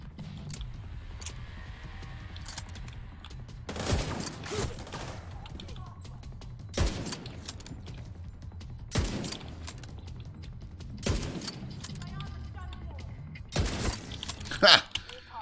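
Sharp bursts of gunfire from a firefight in the shooter game The Division 2 come in separate clusters every few seconds, loud and close against a quieter ambient backdrop.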